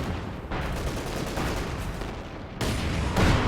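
Su-85 tank guns firing during a Company of Heroes battle: a dense, continuous roar of heavy gunfire and explosions with a louder burst near the end, and no voices.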